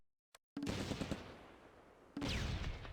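In the Close Combat wargame, Stuart light tanks open fire on a German Mark IV Panzer, with a loud continuous burst of gunfire after a brief pause, then a second dense volley that sharply resumes.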